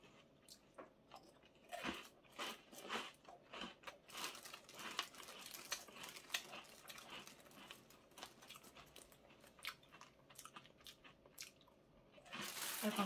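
Close, dry crunching and crackling as a crispy caramel-coated rusk is bitten and chewed, a dense run of brittle snaps with no talking.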